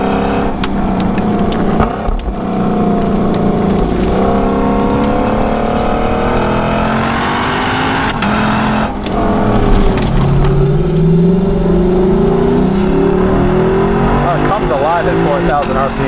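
Engine of a 2021 Lexus LC500 Convertible accelerating, a loud, continuous rising drone with gear changes under ongoing talk from the driver.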